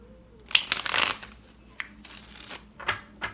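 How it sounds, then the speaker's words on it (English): Tarot-style cards shuffled by hand during a spiritual reading, with a burst of riffling followed by a few short, separate flicks and slaps, close and fairly quiet with no talking. "I'm just gonna give it a little shuffle again"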